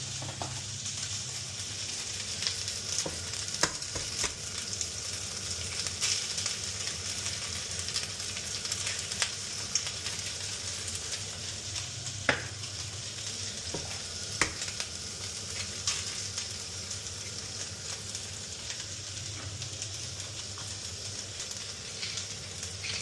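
Eggs fry in a pan with a soft, continuous sizzle and crackle, broken by scattered light pops and occasional clicks, steady and fairly quiet throughout, with no talking.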